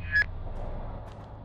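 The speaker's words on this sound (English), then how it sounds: "What's that beeping?" A single short electronic beep near the start in the video game Level Zero: Extraction, set at a South Pole research facility, followed by faint blips over a low ambient drone.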